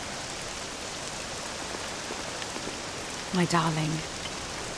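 Steady rain falls in Dragon Quest VII Reimagined, a constant even hiss filling the scene from start to finish, with a brief spoken line near the end.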